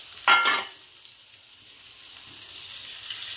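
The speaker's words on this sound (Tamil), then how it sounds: "மல்லியும் கருவேப்பிலையும் போட்டு தாளித்து அதில் ஊற்றிடணும்" Coriander and curry leaves hit hot oil for an okra sambar tempering: a loud, short crackling burst that quickly fades into a faint, steady hiss.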